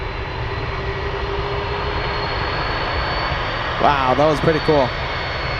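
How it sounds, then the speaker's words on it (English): An Atlas Air Boeing 747 taxis on the runway at Anchorage airport, its jet engines giving a steady, loud roar throughout, with a voice briefly speaking near the end. "Let's go over to the Atlas 747 taxiing on the runway."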